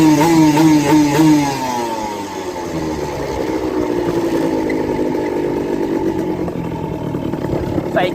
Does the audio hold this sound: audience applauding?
no